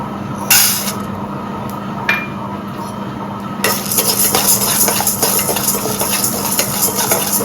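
Chana dal and urad dal dry-roasting in a pan, stirred with a metal spoon: a couple of sharp clinks against the pan, then a busy rattling scrape of grains being tossed, close and fairly loud with a steady background hum.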